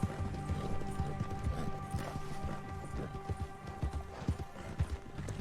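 Hooves clatter in a quick, uneven galloping rhythm over a busy background of game ambience and music in Red Dead Redemption II.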